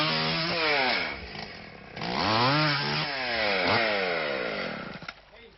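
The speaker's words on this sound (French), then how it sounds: "C'est pas un peu polluant cette tronçonneuse?" A chainsaw engine revs up and down repeatedly, loud and close, its pitch rising and falling as it cuts, then idling down at the end.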